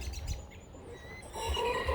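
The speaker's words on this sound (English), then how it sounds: "That was just a bird." A bird chirps in short, fairly faint calls outdoors at a homestead, with a few brief tweets over soft background noise that grows louder toward the end.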